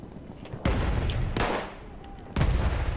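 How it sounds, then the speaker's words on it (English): Loud explosions and gunfire blasts ring out in a Battlefield 1 match during a tank fight, with three heavy booming bursts rolling over a constant battlefield rumble. "You not hear the big fucking explosion?"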